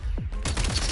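Video game gunfire from a Call of Duty-style shooter, a dense burst of rapid shots packed into under a second, loud and close after a brief lull.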